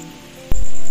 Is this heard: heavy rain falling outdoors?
yes